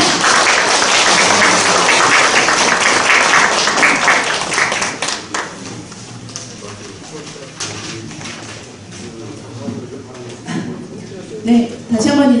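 A crowd at an election campaign event applauds warmly to welcome a speaker, dense clapping that starts loud and gradually thins out, with a voice speaking briefly over it.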